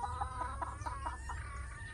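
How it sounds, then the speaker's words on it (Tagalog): Chickens in a rural Philippine provincial yard near a bitter-gourd garden cluck in a quick series of short, fairly faint calls from a distance, over a low background hum. "Yan po, sa malayo ang mga manok eh. Ang mga manok guys."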